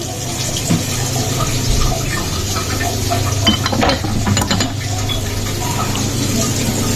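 Soaked fish being rinsed clean under a running kitchen tap, with a continuous splashing rush of water and occasional knocks and clinks from handling the fish and dishes nearby.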